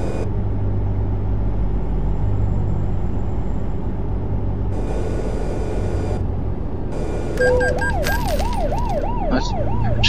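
A police siren wails in the American Truck Simulator game, rising in the last few seconds with a wavering tone over a loud, steady truck engine drone that fills the whole stretch.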